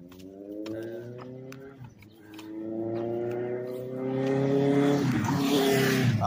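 Suzuki passing on a street during a walk, the engine note rising and falling with a steady tonal drone that swells louder toward the end as it comes close, with no voices over it.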